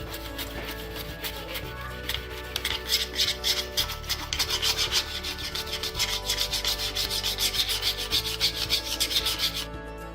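An IKEA vegetable slicer cuts vegetables with a steady, rhythmic rasping as each stroke slides across the blade, close and moderately quiet, growing more regular midway through.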